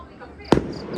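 A single firework bursts at night with a sharp, loud crack that fades quickly into the surrounding quiet, with faint background noise on either side.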